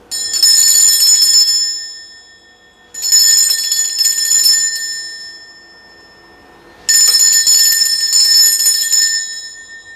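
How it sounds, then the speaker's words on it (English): A bell is struck three times to cleanse the space, each strike ringing bright and clear with a shimmering sustain that slowly fades, heard alone and close. "I'm going to ring this bell. This is just to cleanse the space around us."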